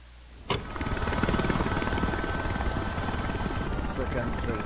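Helicopter in Microsoft Flight Simulator 2024 spooling up for takeoff from a runway, a loud steady rotor and turbine roar starting abruptly and holding near and constant.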